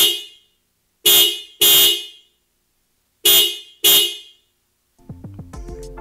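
Stock horn of a 2021 Toyota RAV4 honking four times, two pairs of short loud blasts with silence between, followed by faint music.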